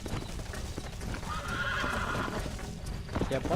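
A horse in the Red Dead Redemption video game, with hooves clip-clopping at a gallop and a loud whinny in the middle, under occasional talk.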